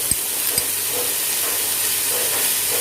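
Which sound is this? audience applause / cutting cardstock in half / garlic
garlic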